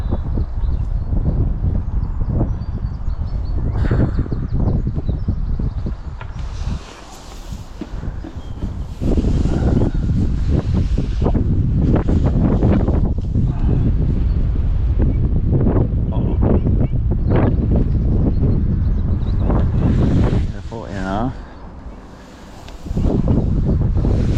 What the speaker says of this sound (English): Because of the wind.